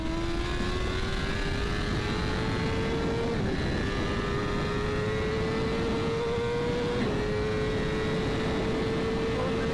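A BMW M1000RR Competition superbike howls on throttle around the Mugello circuit, its engine note climbing steadily in two long pulls with a brief break between them, loud and continuous, heard close from the rider's position.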